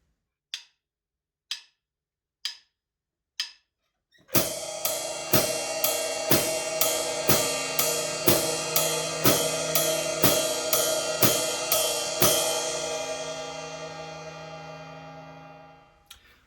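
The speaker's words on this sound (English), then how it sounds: "we're going to now play all of the eighth notes on the ride cymbal." Practice drum groove from a limb-independence lesson: four sharp hi-hat or stick clicks count in, then steady ride cymbal eighth notes with a shimmering wash ring out over left-foot hi-hat quarter notes, close and loud, fading at the end.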